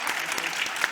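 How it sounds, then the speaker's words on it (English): Brief, dense applause rises from the audience for the panelists at an academic panel session on higher education, with a voice faintly audible underneath. "please join me in one round of applause for our panelists"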